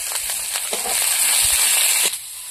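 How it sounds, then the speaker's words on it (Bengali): Bay leaf, panch phoron, chopped onion, garlic and green chili fry together in hot oil, giving a loud, steady sizzling hiss with scattered crackles for a couple of seconds. "তেজপাতা, পাঁচফোড়ন, পেঁয়াজের কুচি, রসুন, কাঁচা লঙ্কা একসঙ্গে ভেজে নেব"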